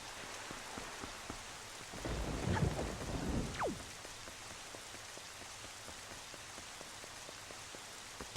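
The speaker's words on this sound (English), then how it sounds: "It was a dark and stormy night." Steady rain pours down in The Legend of Zelda: The Wind Waker video game while a low rumble of thunder rolls through midway, swelling and fading.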